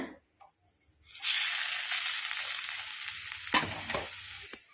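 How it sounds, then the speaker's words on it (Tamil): Grated coconut is added to ghee in a hot kadai and breaks into a loud, dense, close sizzle after a quiet start, with a few stirring scrapes near the end. "கடாய் நல்லா சூடாயிருச்சு. இப்போ நம்ம நெய்யை ஆட் பண்ணியாச்சுங்க. இப்போ நம்ம தேங்காயை சேர்க்க போகிறோங்க."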